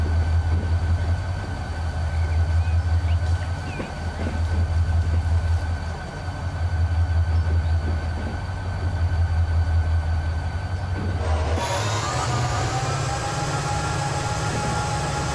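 A diesel locomotive, a modded GP40-2 hauling freight in Transport Fever, rumbles steadily with a deep, pulsing engine drone. The tone shifts brighter and louder near the end.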